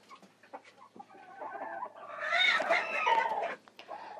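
Mottled Houdan chickens cluck softly in a coop, a few scattered near clucks swelling into a louder run of squawky calls before dropping back to quiet clucking, with no one speaking.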